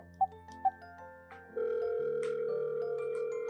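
Telephone dial tone while placing a call: a couple of soft beeps and keypad tones, then a steady, continuous tone holding at moderate volume to the end, with no talk.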